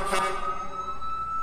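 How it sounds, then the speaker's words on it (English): A new Montgomery County fire truck sounds a loud horn, a steady sustained tone with strong harmonics that holds for over a second, close by with no talking. "Nice horn."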